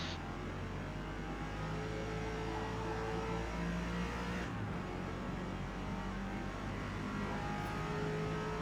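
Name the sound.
racing car engine in Forza Motorsport video game, Lexus RC F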